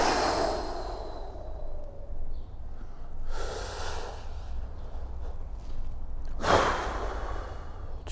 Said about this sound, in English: Full deep breath out.